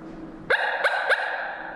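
Coyote barks imitated on a small mouth call: three short, sharp, close yips in quick succession, loud and alone.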